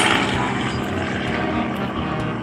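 Fairground helicopter ride lifting off near a railroad yard, a loud continuous rotor thrum and engine roar holding steady throughout, close by and without speech.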